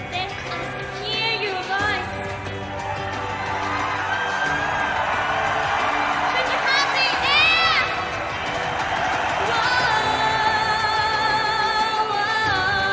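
Large crowd at a BABYMETAL live concert in the UK cheering and whooping loudly and steadily over loud music, with voices rising in bursts throughout.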